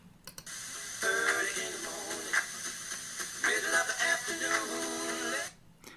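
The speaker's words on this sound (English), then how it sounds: "Now we play the original music plus what we call noise number 1, which is simply white noise and has a 13 dB signal to noise ratio." Music with white noise added at a 13 dB signal-to-noise ratio, a steady broadband hiss that sits over the tonal music across the whole stretch and nearly buries it.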